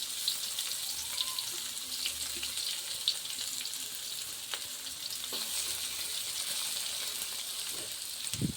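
Cumin and onion sizzle in hot oil in a pan, a continuous loud hiss with occasional stirring clinks and scrapes, close up and unbroken by speech.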